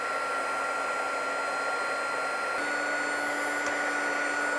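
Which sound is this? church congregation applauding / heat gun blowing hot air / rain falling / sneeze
heat gun blowing hot air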